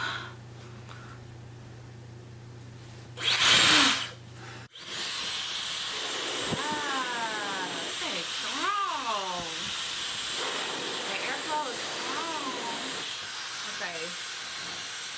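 A Dyson Supersonic hair dryer switches on after a brief loud burst into a steady broadband blowing whoosh that runs continuously, with a voice speaking over the airflow.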